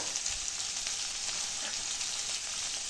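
Curry leaves are added to fried onions in a hot pan while making ragi semiya, giving a steady, close, bright sizzle of frying in oil with no talking.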